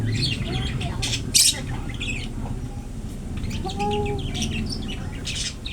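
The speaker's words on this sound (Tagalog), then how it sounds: "Sila yung mga parrot." Several parrots squawk and chirp in sharp, scattered bursts at an old house, with one loud close call near the start, over steady background noise and low murmuring voices.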